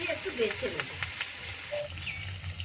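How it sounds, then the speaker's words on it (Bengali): Small foloi fish fry in hot oil in a pan. The soft, steady sizzle and occasional crackles stay faint and close, while someone speaks briefly over them. "এদিকে মাছ ভাজা হতে থাক"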